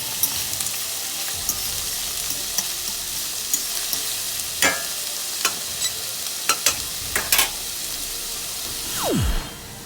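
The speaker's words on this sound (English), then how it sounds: "we're going to saute the garlic and the onions first" Minced garlic and chopped onions sauté in grapeseed oil, giving a steady close sizzle with scattered clicks of a utensil stirring the pan and a short rising scrape near the end.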